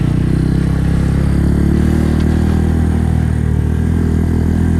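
Honda Grom motorcycle riding while leaning into a turn, a loud, steady engine drone with constant wind and road rumble close to the rider, no speech.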